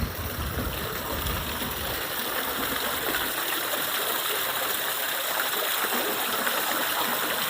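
Fountains in the gardens at Powerscourt give a continuous rushing, splashing wash of water, steady and fairly loud throughout with no talking.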